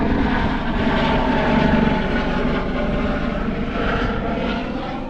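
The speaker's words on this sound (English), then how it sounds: "Chopper's just rocked up." A steady, loud helicopter rotor and engine drone fills the whole stretch, the nearby aircraft roaring continuously with no voices over it, at Mount Magnet in Western Australia.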